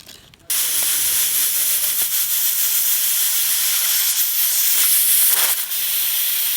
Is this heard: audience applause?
no